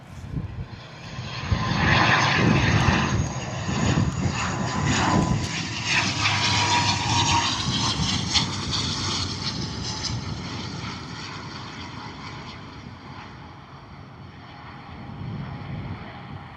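An Aer Lingus ATR turboprop lands in a gusty crosswind at Bristol Airport, its engine and propeller drone loud and rising in pitch before gradually fading, with wind rumble on the microphone and no talking.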